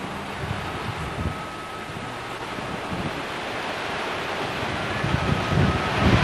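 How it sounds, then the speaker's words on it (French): A broad, steady roar of rushing water from the Doménon mountain torrent in the Belledonne range, France, loud and continuous like a fast stream tumbling over rocks, with some wind buffeting. "Nous longeons maintenant le torrent du Doménon,"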